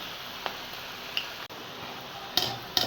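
Drumstick leaf pakoda deep-fries in hot oil with a soft, steady sizzle, broken by a few small crackles and pops near the end, quiet and close with no talking.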